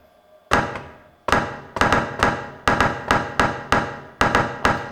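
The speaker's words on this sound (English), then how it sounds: "In just a few seconds, you go from noise to snare with a particularly unique timbre." Sharp, dry snare-like hits resampled from noise on an SP-404 strike one after another at a steady pace, each with a bright noisy crack and quick decay, loud and close.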